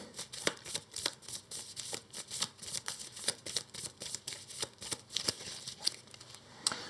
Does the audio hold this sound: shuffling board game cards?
yes